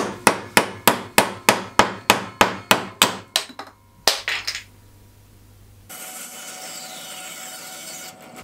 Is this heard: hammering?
yes